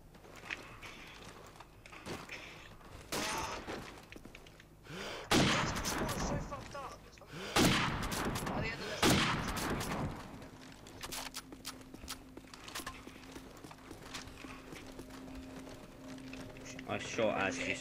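Gunfire in Call of Duty 4: Modern Warfare multiplayer, sharp scattered shots and short bursts that grow louder and denser midway, with quieter clatter and distant shots around them.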